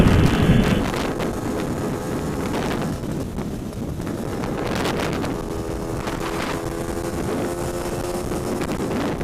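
A brand-new GT300LC engine on its first test run, holding about 60 mph below its power band: a steady engine drone with a rising harmonic tone, buried in heavy wind roar.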